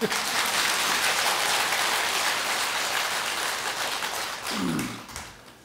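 Audience applause in a Buddhist temple hall after a choir in traditional hanbok sings, steady dense clapping that fills the room for several seconds before fading, with a brief voice near the end.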